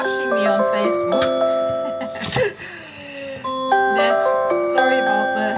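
A phone ringing indoors in a home kitchen, its electronic tone repeating in short melodic bursts that stop and then start again partway through.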